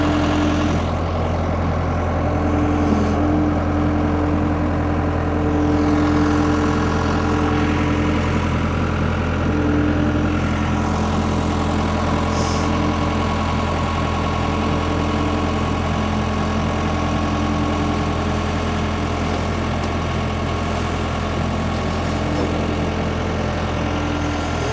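A skid steer engine idles steadily and close by, a constant low, droning hum with even mechanical harmonics and no change in pace.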